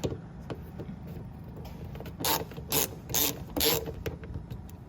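A ratcheting tool spins out screws while removing a fender on a 2015-2017 Hyundai Sonata, several short bursts of rapid clicking in quick succession over quiet background clatter.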